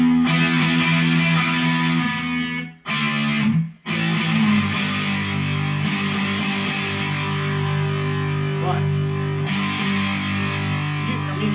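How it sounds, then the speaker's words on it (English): Thick distorted electric guitar from a Squier Classic Vibe Jaguar rings out with sustained chords, briefly cutting out twice early on before continuing loud and buzzy. "you can get a distortion that's kind of cutting and more like a single coil"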